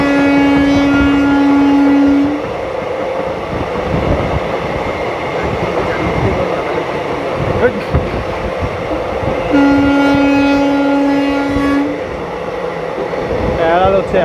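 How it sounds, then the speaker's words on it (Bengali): A passenger train on the Howrah–Chakradharpur–Bokaro link runs alongside on a parallel track, heard as a loud, steady rumble and clatter of wheels with two long horn blasts, one at the start and one midway, and a voice in the background. "এখানে প্যারালাল হচ্ছে হাওড়া চক্রধরপুর বোকারো লিঙ্কের ট্রেনের সাথে"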